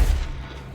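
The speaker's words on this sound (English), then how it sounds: "Explosion." An explosion in the video game Control lands as a deep, heavy boom that rolls off quickly into a low, fading rumble.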